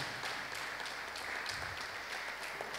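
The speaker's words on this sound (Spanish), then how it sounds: "Dale un aplauso al Señor si lo crees" A church congregation applauds, a steady, dense wash of many hands clapping heard from a distance that continues evenly throughout, fairly faint.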